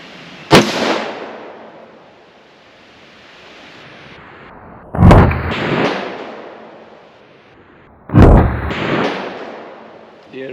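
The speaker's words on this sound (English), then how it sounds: "We're going to be taking some shots at about 35 yards here" Three loud rifle shots fired at a target about 35 yards downrange, spaced roughly four seconds apart, each a sharp close crack followed by a long rolling outdoor echo that fades before the next.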